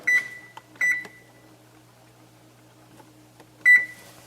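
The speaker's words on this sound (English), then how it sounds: "I'm going to set my timer" Three short electronic beeps spaced apart, like buttons pressed on a kitchen timer, with a faint hum and clicks in a quiet room.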